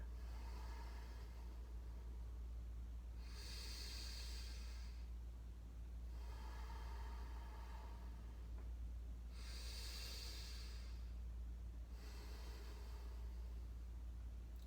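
Slow, deep breaths during a standing yoga stretch for scoliosis, each inhale and exhale a soft airy rush recurring every few seconds over a steady low hum, close and quiet.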